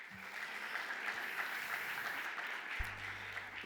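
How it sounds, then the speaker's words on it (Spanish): Faint applause from the audience at a panel on green hydrogen permitting and regulation, a soft, steady patter of clapping heard from a distance. "Un aplauso para Juan Cristóbal."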